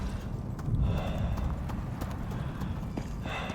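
Footsteps of a goat in the Prometheus video game, a steady run of soft hoof clip-clops over continuous ambient noise, moderately near.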